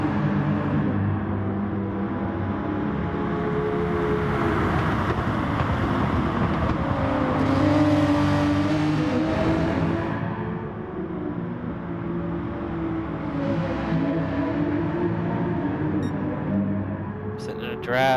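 Race cars in a drag race up a hill hold a steady, droning engine roar with rising pitch as they accelerate, while a driver talks over the noise throughout.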